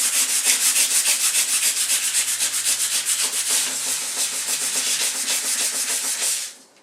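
Sandpaper rubbed by hand over a table coated in antique white chalk-like paint, a rapid, regular back-and-forth scratching of short strokes, close and loud, ending abruptly, with no talking.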